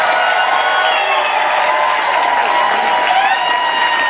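Audience at a JoCo Cruise farewell party, the Crazy 4 sailing, applauding and cheering loudly and continuously, a dense wash of clapping with shouts rising over it throughout.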